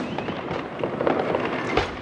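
New Year's Eve fireworks burst over Plovdiv as a dense, continuous barrage of crackling pops and booms heard from close underneath the city display, with no clear speech.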